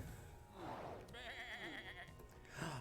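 Sheep bleating in the video game Across the Obelisk: a wavering, drawn-out bleat followed by a higher quavering call, faint and mixed with game sounds.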